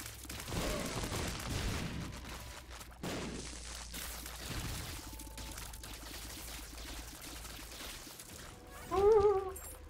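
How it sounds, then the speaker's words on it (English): Dense, chaotic bursts of game explosions and gunfire roll on continuously, with a louder crashing hit near the end. "We got a lot of explosions."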